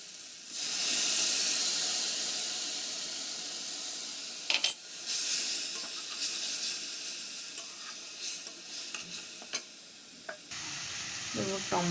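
Water poured onto hot frying masala of turmeric, chilli and garam masala for a crab curry gives a loud burst of hissing steam that settles into a sizzle, with a few scrapes of stirring and a brief closing clatter.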